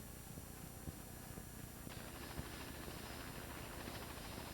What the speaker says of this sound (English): This requires frequent landings and takeoffs from these often flooded meadows for the purpose of mosquito breeding area inspections. The aircraft handles this quite well.